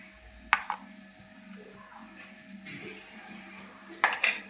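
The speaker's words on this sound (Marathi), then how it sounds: "आता गॅसवरती कढई ठेवून त्यामध्ये मी 2 चमचे तेल टाकून घेतलेलं आहे" A kadhai is set on a gas stove with two spoons of oil, giving a couple of sharp metallic clinks near the start and more at the end, quiet kitchen hum between.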